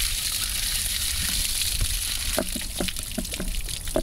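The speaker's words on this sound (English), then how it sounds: "Now our water is running pretty" Water runs and splashes steadily out of the drained tank of a camper's hot water heater, a close, continuous gush with a few brief sputters and gurgles near the end.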